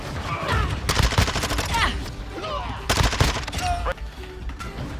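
Vaznev assault rifle in Modern Warfare 2 multiplayer firing repeated loud bursts, rapid cracks overlapping with other distant gunfire and game effects, with a voice talking briefly underneath.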